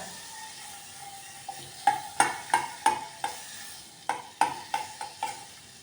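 Soft, steady sizzle of butter heating in a pan for tempering, broken by a series of sharp metallic taps and clinks of a spoon against the pan.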